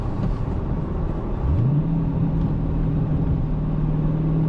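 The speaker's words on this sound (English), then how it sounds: "This engine has a lot of torque, down low. First gear is quick." A manual 2020 Dodge Challenger Scat Pack Widebody accelerates, its engine rumbling steadily before the pitch climbs and holds as it pulls through first gear, loud and close with no talk.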